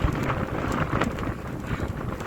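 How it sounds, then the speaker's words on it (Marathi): Strong gusting wind and rain on a hill fort summit during monsoon weather, a dense continuous roar with buffeting bursts close to the microphone and no speech. "हवा खूप आहे, मोबाईल उडून जाईल एवढी हवा आहे"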